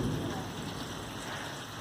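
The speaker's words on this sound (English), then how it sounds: "And rain harder than it ever rained before." Heavy rain pours in a dense, steady hiss with a low rumble beneath it, loud and continuous throughout, with no voices over it.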